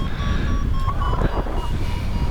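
Thin, high electronic beeps from a paragliding flight instrument repeat intermittently over a constant low rumble of wind and engine noise, flying over the Alps; no voices.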